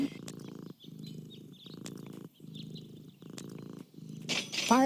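A cat in the video game Deponia purrs close up in a slow, rhythmic rumble, about six even breaths in and out, before a brief meow-like cry at the end.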